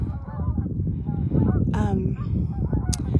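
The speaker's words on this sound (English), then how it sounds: "do you guys hear the geese? These are the Canadian geese." Canada geese honk several times nearby at a reservoir, loud nasal calls over a rumbling background, with a voice briefly speaking alongside.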